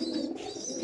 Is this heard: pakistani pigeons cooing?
yes